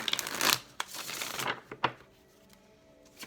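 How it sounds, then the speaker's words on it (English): Tarot cards are shuffled in quick riffling bursts, with a few sharp taps as the deck is squared, close and fairly quiet. "this is going to be our last shuffle"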